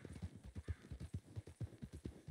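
A horse's hooves clip-clop at a steady walking rhythm in Red Dead Online, the close, muffled thuds evenly spaced and moderately loud, with no talking.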